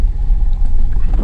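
A vehicle makes a heavy, close rumble as it is driven down into a rough riverbed, with the engine drone steady and loud over the short stretch.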